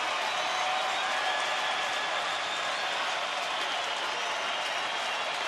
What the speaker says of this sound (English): Chuck Morgan inciting the crowd to make some noise.